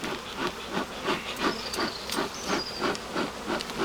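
Honeybees buzz at a hive being smoked, a dense close droning hum with a pulsing rhythm and a faint hiss from the smoker.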